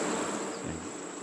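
Honeybees massed on a hive frame give a steady, close buzzing drone with a thin high whine running through it, alone without voices.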